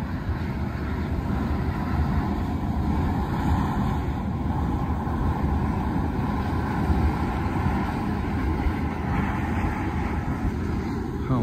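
Roaring geyser at Sol de Mañana in Bolivia, a steady, loud, broadband rush of venting steam that holds constant throughout with no pauses.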